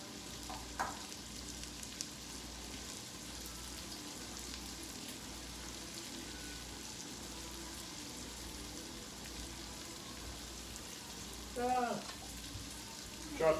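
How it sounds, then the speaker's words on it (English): Carrots and other vegetables saute in a hot pan, giving a steady, even sizzle across the whole stretch, with a couple of brief stirring or clattering bursts near the end and no talk. "So we'll just saute these for a couple of minutes"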